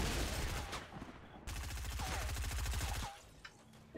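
Rapid SMG fire in Fortnite, two fast bursts of tightly spaced shots, the second one longer, loud and close, with small pickup sounds after.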